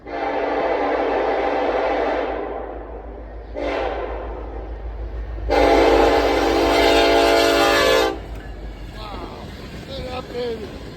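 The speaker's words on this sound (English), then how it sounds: "This train sounded mean." A train rumbles past in a snowy whiteout with a snow dozer nearby. Its loud, blaring horn sounds for a few seconds amid the steady roar of the cars, and someone speaks before and after.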